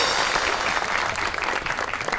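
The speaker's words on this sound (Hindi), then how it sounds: "आपकी बहुत सी तालियों में the one and only Bushra गुलफा।" Studio audience applause welcoming a guest on a comedy talk show, a short burst of close, dense clapping throughout.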